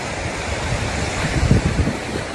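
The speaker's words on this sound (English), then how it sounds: "This water's going crazy" Rough sea surging against Lowestoft Promenade, a loud continuous wash of surf with heavy wind buffeting the microphone and a few deeper thumps of breaking water.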